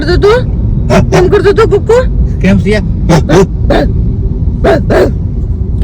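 A dog barks repeatedly in short, loud bursts beside a petrol pump, with vehicle noise running steadily underneath and voices talking nearby.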